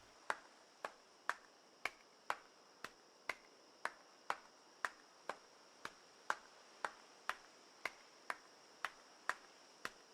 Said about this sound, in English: That's a very odd clapping sound.